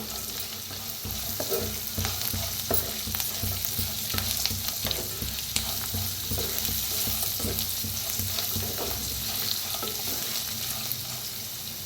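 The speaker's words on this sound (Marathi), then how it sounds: "आता त्याच्यात टाकूया हळद अर्धा चमचा. एकदम मिक्स करून भाजून घेऊया." Onion frying in a pan with half a spoon of turmeric, stirred and mixed throughout, giving a steady close sizzle with scraping spoon strokes and no talking.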